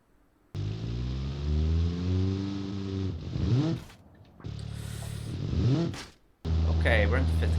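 Car engine revving and accelerating through the gears on a motorway in BeamNG.drive, a cheap Chinese MX-5 copy built in Automation; loud harmonic engine note rises, drops at gear changes, then climbs again, with no talking.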